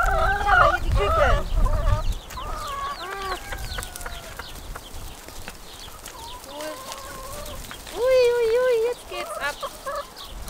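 Hens and chicks cluck and cheep in an outdoor setting on Ibiza, close and loud, with layered calls, chirps and a louder hen call near the end.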